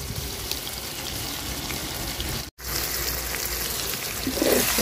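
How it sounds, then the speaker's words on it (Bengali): Steady hiss of red chillies and garlic frying in a hot pan, continuous and close, with a brief dropout midway and some louder sizzling near the end. "মশলাটা ভাজা নিব সুন্দর করে।"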